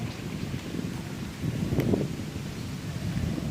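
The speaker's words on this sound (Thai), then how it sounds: "เสียงลมพัด" Wind blows steadily outdoors at a temple site in That Phanom, a broad rushing noise with a gust swelling midway, heard alone without talk.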